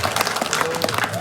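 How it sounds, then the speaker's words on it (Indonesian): Audience at a Balinese comedy show held at a village temple claps and cheers, a dense, close burst of applause with crowd voices mixed in. "tepuk tangannya dulu dong"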